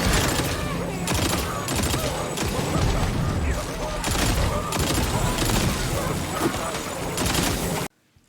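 Sustained assault rifle fire in Tiny Tina's Wonderlands, rapid automatic bursts crackling almost continuously with impacts and booms layered in, loud and dense for several seconds before cutting off abruptly.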